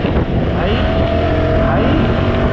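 BMW C600 scooter engine running loud and steady, the pitch rising and falling as the throttle is worked, with continuous wind rush over it.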